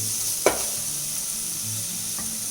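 Chopped tomatoes cook in a pan for vegetable kurma, frying under a constant sizzle, with one sharp stirring scrape and a fainter one later.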